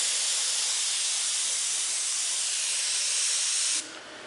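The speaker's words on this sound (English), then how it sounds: "I'll spray the paint just above that" A spray paint can hisses in one long, steady burst close by, then cuts off abruptly near the end.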